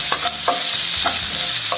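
Onions frying in a pan for a Tamil ridge gourd and peanut dish, a steady loud sizzle broken by several rhythmic scrapes of a spoon stirring, with no talking.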